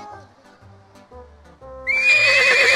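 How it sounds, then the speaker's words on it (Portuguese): A horse is heard in a children's New Year TV guessing game: soft hoof clip-clops, then a loud, shrill whinny bursts in and carries on to the end, with no talking. "Ela disse um cavalo,"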